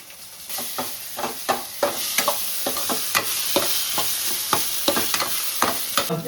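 Pasta sauce with tomato ketchup fries in a pan, giving a steady sizzle broken by repeated sharp scrapes and clicks of stirring at close range, with no voices.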